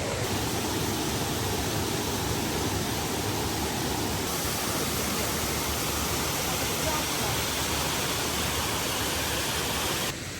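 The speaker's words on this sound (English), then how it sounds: "this is a nice waterfall" A waterfall in Madeira pours down with a loud, steady, broadband rush of falling water, close and unbroken throughout.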